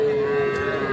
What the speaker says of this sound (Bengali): এইটাও একটা ষাঁড় বাছুর